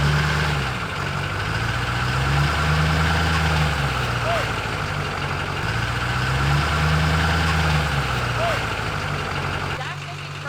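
A Duramax diesel pickup engine idles steadily, a deep low rumble with a slow pulsing throb that rises and falls, close and constant throughout, with a faint chirp or two above it.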